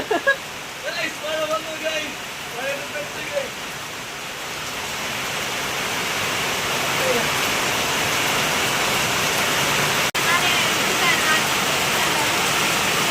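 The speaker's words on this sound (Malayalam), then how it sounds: "നല്ല അടിപൊളി മഴ പെയ്യുന്നുണ്ട്" Steady, dense rain hisses throughout, building slightly louder midway, with faint voices early on beneath the downpour.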